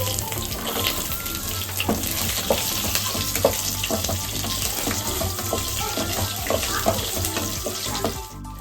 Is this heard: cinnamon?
yes